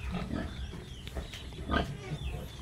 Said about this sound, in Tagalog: Ayan yung ating mga baboy.